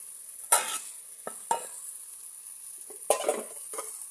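Water poured onto fried spice paste in a hot pan gives short sizzling bursts with a few clinks, close by, over a steady high hiss between them, no talk.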